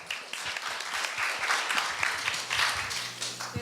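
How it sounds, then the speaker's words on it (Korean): Applause fills a Korean middle-school speech contest hall for a student questioner, dense steady clapping with a few sharp individual claps, moderately near and alone. "힘찬 박수 부탁드립니다"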